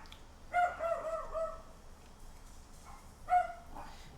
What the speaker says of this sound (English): Ow, it's the dogs barking again.